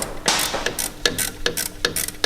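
Ratchet undoing small bolts on a brake disc protection plate of a Mitsubishi L200 during a brake rebuild, with loud, close, rapid metallic clicking in quick bursts and no talk.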